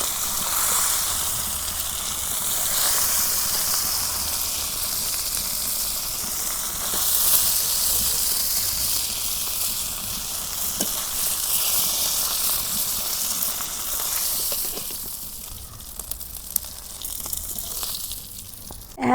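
Rohu fish frying in oil for a spicy curry with eggplant and tomato, a loud, continuous hiss and sizzle that holds steady nearly throughout and thins slightly toward the end.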